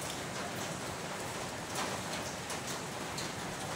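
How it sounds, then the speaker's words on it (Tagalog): Steady rain pours down in a dense, unbroken hiss, with scattered drops pattering on a surface throughout. "Walang tigil ang buhos ng ulan."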